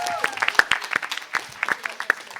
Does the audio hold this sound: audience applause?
yes